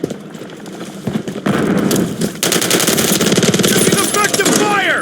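Dense automatic gunfire in Call of Duty Modern Warfare 3 multiplayer, loud and sustained rapid bursts that swell after the first second, with a voice talking briefly under the shooting.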